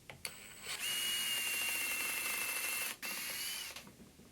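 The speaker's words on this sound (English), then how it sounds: "Now I'm going to pre-drill." A power drill whines steadily for a couple of seconds, pauses briefly, then spins again before winding down while pre-drilling holes for kitchen island lighting; short clicks at the start.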